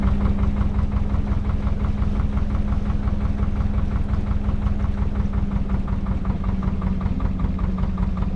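A small petrol generator runs close by on a narrowboat, chugging in a steady, even rhythm with a low rumble throughout and no pauses.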